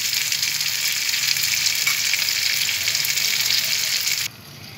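Ghee spooned into a pan of frying chicken kala bhuna, giving a loud steady close sizzle that holds for several seconds before dropping off abruptly to a faint hiss.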